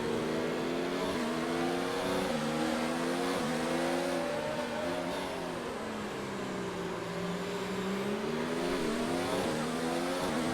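Formula 1 car engine in the F1 2019 racing game, a loud, continuous high-pitched whine rising and dipping as the driver lifts and accelerates through a triple right-hand corner on a heavy fuel load.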